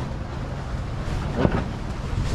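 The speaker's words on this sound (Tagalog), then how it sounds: "Lakas lang hangin ngayon." Steady, loud wind roaring across the microphone beside a large boat under construction, a continuous broadband rush with slight gusting and no voices.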